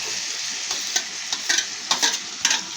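Potatoes frying with onion and spices in a pan, giving a steady close sizzle broken by soft scraping stirs every half second or so, with no voices.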